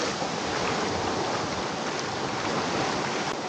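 Sea waves wash at a fishing and camping spot in a steady, broad roar of churning water with no distinct breaks, close and fairly loud, and no voices.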